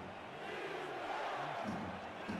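Home crowd at a Baltimore American football game against Chicago roars steadily in a broad, continuous wash of noise, without distinct breaks.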